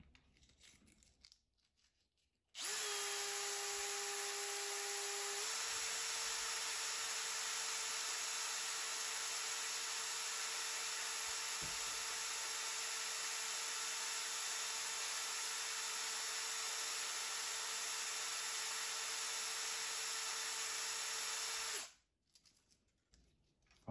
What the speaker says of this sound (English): First time I'm gonna grind this particular one.